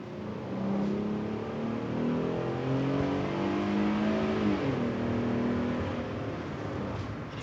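A Ram ProMaster van with a 3.6-liter Pentastar V6 and nine-speed automatic accelerating at full throttle, engine note rising steadily, dipping briefly at a shift, then climbing again, heard from inside the cabin.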